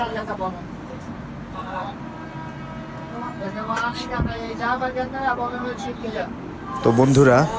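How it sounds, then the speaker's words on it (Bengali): Inside a moving passenger train bound for Agra, India, a steady low rumble runs beneath people talking, with a louder burst near the end. "ট্রেন এখন চলছে আবার আগ্রার উদ্দেশ্যে"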